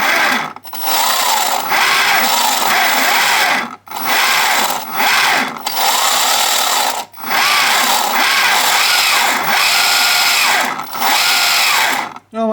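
Brushless 2212 motors drive an RC tank, giving a loud, steady whirring buzz that runs in long stretches, broken by several short pauses.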